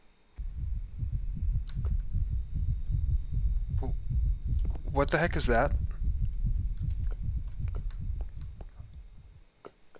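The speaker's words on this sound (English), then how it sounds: "A really weird sound effect just played. It sounded like a heart beating very fast." A fast heartbeat sound effect plays in the Minecraft modpack Ragnamod, with rapid, steady low thumps throbbing for several seconds and a voice briefly speaking over it.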